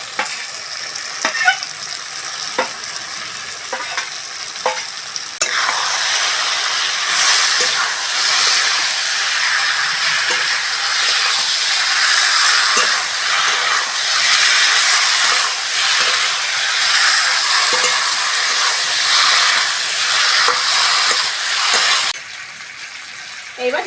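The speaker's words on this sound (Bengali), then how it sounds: "এবার ফুলকপিগুলো দিয়ে দেবো।" Fried cauliflower goes into a pan of spiced potatoes for an egg curry. After a quieter start with a few clinks, a steady loud sizzle runs for most of the time with stirring scrapes, then drops off near the end.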